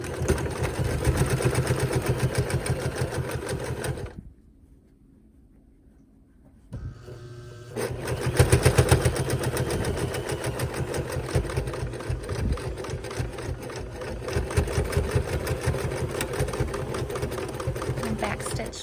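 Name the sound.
sewing machine back stitching quilt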